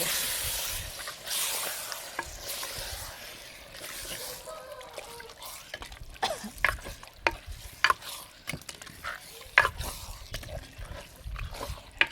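Mutton pieces sauté in a pan for a Sunday goat curry, giving a low sizzle with scraping spoon stirs and sharp clatters growing busier toward the end.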